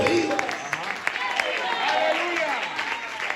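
A church congregation claps their hands in steady, rapid rhythm, a bright continuous patter under a preacher's loud voice and crowd sound.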